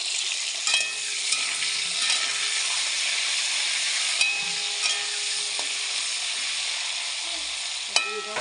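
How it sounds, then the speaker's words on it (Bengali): Cauliflower pieces fry in a pan with a steady, close hissing sizzle that holds evenly throughout, broken by a few faint clicks and knocks, with nobody talking. "এবার আমি ফুলকপিটা ভাজতে দিয়েছি।"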